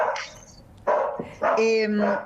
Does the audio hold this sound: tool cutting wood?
no